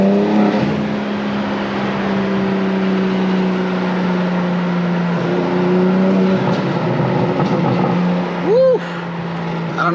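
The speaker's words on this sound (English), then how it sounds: "I don't know if you guys can hear those pops, but they are pretty freaking loud" Modified BMW G82 M4 exhaust with an aftermarket downpipe, heard from inside the car as a steady loud engine drone with rising revs and sharp exhaust pops and burbles, plus a brief whoop near the end.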